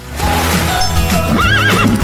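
A horse neighs in a loud, wavering whinny that rises and falls over about two seconds, close and clear, with no talk over it.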